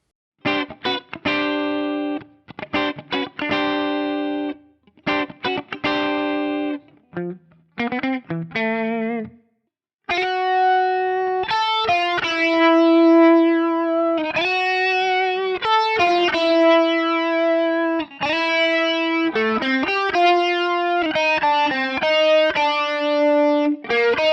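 An electric guitar through a Fractal preset plays a choppy riff, then a sustained melodic line with distorted, chorused tone; loud and continuous, no talking.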